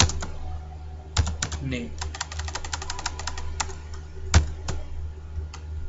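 Computer keyboard typing comes through as irregular bursts of crisp clicks, fairly close, with a louder keystroke now and then, while someone speaks briefly over it.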